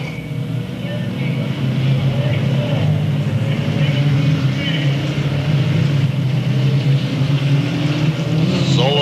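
Race cars lap a speedway oval under green-flag racing, their engines a continuous loud roar with pass-by swells near the end, while an announcer talks over the noise.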